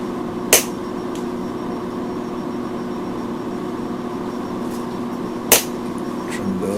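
Cutters snip the sharp ends off silver wire while a silver Viking ring is being made, giving two crisp, close clicks about five seconds apart over a steady low background hum.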